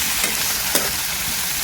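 Tomato stir-fries in a hot pan for cuttlefish pasta, a dense, even sizzle close by with a couple of faint stirring taps.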